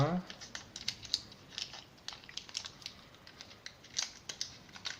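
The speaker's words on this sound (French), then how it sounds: "la deuxième étape va être de venir ouvrir délicatement le wrap sans le déchirer" Plastic wrap being carefully peeled open from a vape battery cell, giving close, soft crinkles and small snapping clicks in an irregular series, with no talk over it.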